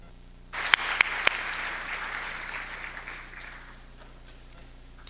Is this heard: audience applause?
yes